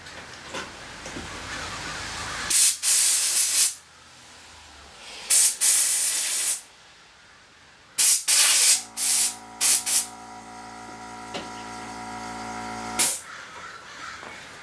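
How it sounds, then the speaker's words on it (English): Compressed air blasts debris from the hook of an Adler 267 walking foot sewing machine in a series of short, loud hissing bursts separated by pauses, with a faint mechanical hum between them. "I'm going to grab the air compressor."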